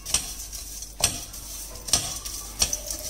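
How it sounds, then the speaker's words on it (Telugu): Crushed calcium powder being dry roasted in a pan on a stove, a spoon or spatula scraping and knocking against the metal in a few distinct strokes over a faint sizzling hiss, close and alone. "ఇది మనం కొంచెం డ్రై రోస్ట్ చేసుకోవాలి బ్రౌన్ బ్రౌనిష్ వచ్చేంత వరకు"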